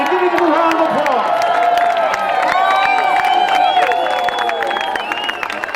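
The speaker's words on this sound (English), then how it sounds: "Please join me in giving him a round of applause." Air show crowd in Gary, Indiana, applauding a parachute jumper, scattered clapping and cheering mixed with whistles and overlapping voices, fairly loud and continuous.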